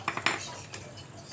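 A spoon clinks against a bowl a few times while cornflour is measured into egg chop batter, sharp close taps with brief pauses, no talking.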